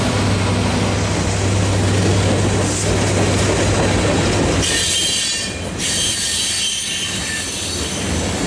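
A Union Pacific freight train rolls past at night, its wagons rumbling steadily while wheels squeal loudly and continuously, with a low horn-like tone early on before the squeal takes over.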